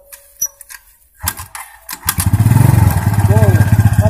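A motorcycle engine coughs and catches after some brief clatter, then settles into a loud, close, steadily pulsing idle, with voices talking nearby.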